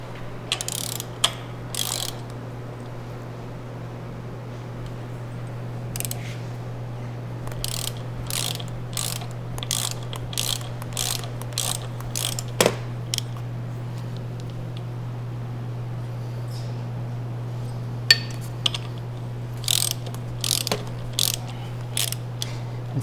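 Torque wrench tightening the idler pulley bolt on a Toyota 4.7 engine during timing belt work, a series of sharp ratchet clicks in short bursts with pauses, over a steady low hum.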